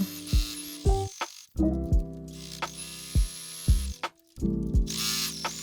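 A sewing machine topstitches the edge of a shirt being remade into a sleeveless top, whirring in short runs that stop and restart, with clicks and handling noises between stitches.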